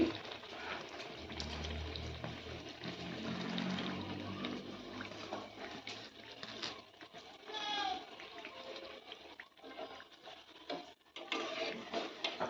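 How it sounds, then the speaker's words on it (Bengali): Paratha frying in hot oil, a soft crackling sizzle with scattered pops, fairly faint and close, continuing throughout with a low hum underneath. "এটা একটা পরোটাই হচ্ছে তেলে দিয়ে দিয়েছি"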